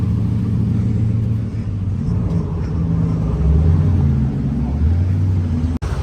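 Supercars such as a guards red Porsche 918 rumble and rev past close by, their engines swelling loudly and steadily for several seconds with no talk.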